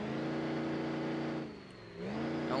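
A diesel car in the driving game BeamNG, on an automatic transmission with a 3,000 rpm limit, holds a steady droning engine hum. The engine dips briefly, then rises again to a close, even rev.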